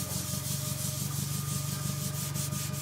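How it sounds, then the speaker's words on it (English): Scotch-Brite pad scrubbing rusty steel coated with rust-removal liquid, a close, rapid back-and-forth rubbing with a quick regular rhythm, loud and steady with no talking. "put a little rust blast on the Scotch-Brite pad and work it in"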